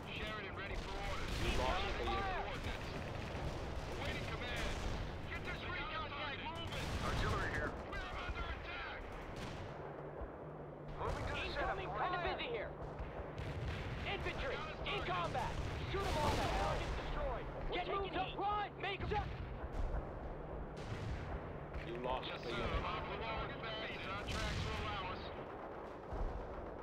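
Gunfire and artillery blasts from World in Conflict, a real-time strategy game with Soviet forces in combat, crack in repeated bursts across the battle, mixed with dense radio chatter and unit voices throughout.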